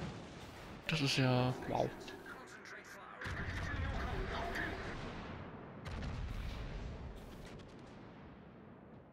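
Warship naval guns fire in World of Warships, deep booming shots with rumbling tails, heard in bursts under a player's excited speech.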